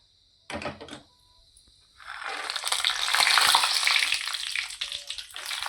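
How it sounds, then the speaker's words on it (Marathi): Peanuts, cashews and almonds frying in oil for a potato chivda, a brief clatter as they go in, then a swelling steady sizzle that stays loud and close. "आता आपण त्याच तेलामध्ये थोडेसे शेंगदाणे आणि काजू बदाम तळून घेणार आहोत"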